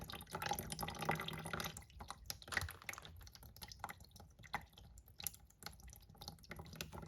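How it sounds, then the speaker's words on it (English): Water poured into a cutaway toilet bowl splashes and trickles, a heavier gush at first that thins into scattered drips and small splashes, faint and close. "pour some water into the bowl"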